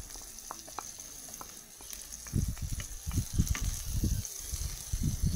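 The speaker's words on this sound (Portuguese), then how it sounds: "Já fritei minhas salsichas, agora eu vou acrescentar minha cebola picada." Chopped onion sizzles in a pan with already fried sausages, a steady frying crackle joined by loud, repeated low scraping and thumping from stirring in the second half.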